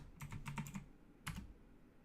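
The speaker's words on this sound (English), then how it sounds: "Hit enter, and then you type in your password." Someone types a password on a computer keyboard while shutting down an Ubuntu server: a quick burst of about six crisp keystrokes, a pause, then a couple more taps, close and fairly quiet with no talk.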